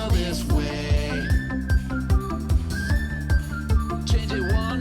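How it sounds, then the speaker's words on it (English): Several people in a church worship service whistle a short melodic phrase over a steady, thumping rhythmic backing beat, repeating a few times. "Now whistle this way."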